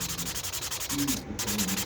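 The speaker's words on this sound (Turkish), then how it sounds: "Bu şekilde zımparalama yapıyoruz böyle." A ney reed is hand-sanded with 600- and 1500-grit automotive sandpaper, producing quick, steady back-and-forth rasping strokes that are close and heard alone.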